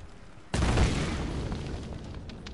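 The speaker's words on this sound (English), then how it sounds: "That little bit of Michael Bay action, explosions." A sudden loud boom bursts out in Tomb Raider Definitive Edition, followed by a long rumbling roar of debris and crackling that slowly fades.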